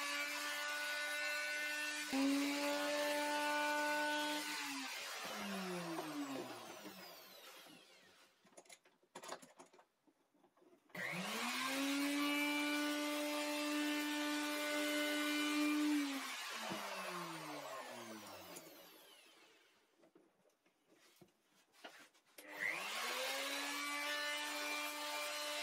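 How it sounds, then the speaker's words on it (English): A wood router with a 9mm round over bit shapes a solid wood support piece on a router table, in long loud whining passes that spin up, hold steady, then wind down between cuts. "I've got a 9mm radius round over bit that I'm using to put a nice curve on the back of the support piece"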